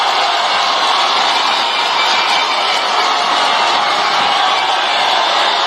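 A WWE Raw arena crowd cheers in a continuous, dense roar, loud and steady from start to finish with no distinct individual voices.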